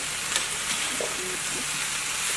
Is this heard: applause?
no